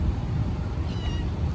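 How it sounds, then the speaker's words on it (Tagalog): A cat meows at night, a faint brief call near the end of a short stretch over steady low rumbling background noise, with no one talking. "Meow meow."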